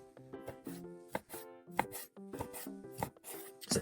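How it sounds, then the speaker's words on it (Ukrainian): Knife slicing herring fillet on a cutting board into pieces about 1 cm wide, a quick series of close, crisp chopping taps in an irregular rhythm. "Для початку оселедець треба порізати."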